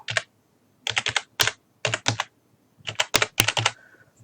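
Quick bursts of close, crisp keystrokes on a computer keyboard as a username and password are entered, clustered in short rapid runs with brief pauses between, no voices.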